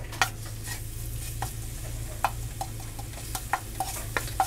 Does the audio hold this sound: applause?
no